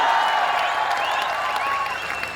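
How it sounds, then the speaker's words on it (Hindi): Audience at a political rally in Haryana clapping, a sustained burst of applause from a large crowd that stays loud and slowly tapers toward the end. "ये बिना सुने ही ताली बजाना"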